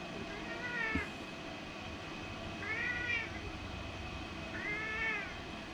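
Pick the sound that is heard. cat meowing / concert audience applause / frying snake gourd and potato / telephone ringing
cat meowing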